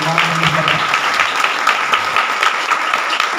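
A church congregation clapping their hands in praise during a worship service, a dense burst of rhythmic applause filling the room, with a voice speaking over it.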